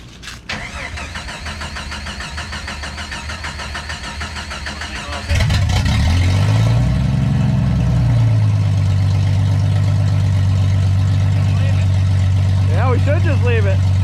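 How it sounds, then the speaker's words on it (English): Jeep YJ with an open header exhaust cranks and fires at about five seconds, then settles into a loud, steady, close-up idle with a brief rev swell; voices speak faintly before the start and briefly near the end. "when you do any kind of exhaust work, you have to start it up and hear what it sounds like open header."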